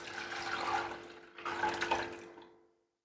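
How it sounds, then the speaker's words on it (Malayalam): Water is poured into a rice-measuring vessel in two close splashing pours, the second fading out to silence, with no talking. "ഇനി വെള്ളം നമ്മൾ അരി അളന്ന് വെച്ച പാത്രത്തിലേക്ക് ഒഴിച്ചു കൊടുക്കാം"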